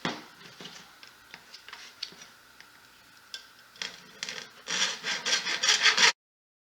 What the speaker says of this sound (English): our first step will be to cut this bucket in half